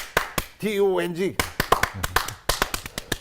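A man demonstrates a school baseball cheering clap, sharp, close hand claps in a quick rhythmic pattern, with a sung syllable and spoken chant woven between the beats.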